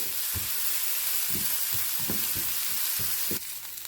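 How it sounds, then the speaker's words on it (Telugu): Boiled eggs frying in ginger garlic paste for egg biryani, a steady close hiss of sizzling oil with soft rhythmic stirring scrapes repeating about every half second. "కొద్దిసేపు ఇలా అల్లం వెల్లుల్లి పేస్ట్ వేగిన తర్వాత ఇందులోకి మనం ఎగ్స్ని యాడ్ చేసుకుందాము."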